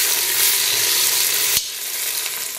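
Ratatouille vegetables fry in a hot pan with a bright, loud sizzle. The sizzle drops abruptly partway through as the heat is turned down, then continues more softly.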